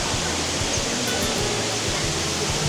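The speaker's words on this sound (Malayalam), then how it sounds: "ദുബായ് മോളിലെ ആർട്ടിഫിഷ്യൽ വെള്ളച്ചാട്ടം, ദുബായ് ഫൗണ്ടെയിൻ" The artificial waterfall of the Dubai Fountain inside Dubai Mall gives a continuous, even wash of falling water with a dense, steady roar. Faint indoor murmur sits beneath it.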